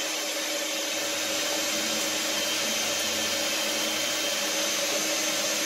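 An electric stand mixer kneads bagel dough made with unbleached flour, giving a steady, continuous motor whir with a broad hiss that holds at one level throughout, with no talking over it.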